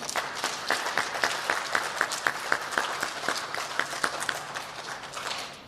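An audience at an elementary school student recognition ceremony applauds steadily, with many hands clapping together in a sustained, even round.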